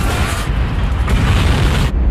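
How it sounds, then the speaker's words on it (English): A huge explosion at the British Petroleum oil refinery in Texas City, a loud, sustained rumbling roar that stays broad and heavy for about two seconds before cutting off abruptly. "huge explosion rocks the British Petroleum oil refinery in Texas City."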